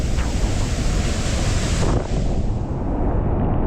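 Crashing water from an Icelandic waterfall, a loud, continuous roar of falling water with wind buffeting the microphone, steady throughout with no voices.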